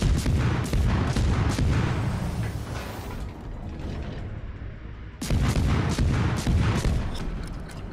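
Video game artillery fire on a designated target: a dense volley of heavy booms and cracks, fading into a rumbling lull, then another loud burst of rapid blasts.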